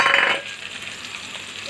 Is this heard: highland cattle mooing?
no